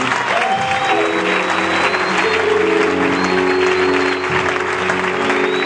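A congregation at a 2014 prophets' gathering applauds the Lord: dense, loud, sustained clapping from a large crowd with sustained organ-like tones underneath, steady for several seconds.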